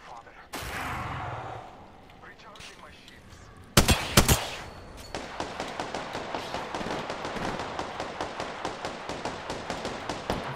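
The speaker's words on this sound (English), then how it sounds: "Laying down cover fire." Rapid machine-gun cover fire from a Spitfire in Apex Legends, a steady string of evenly spaced shots running through the latter half after a louder burst, with a player's voice talking underneath.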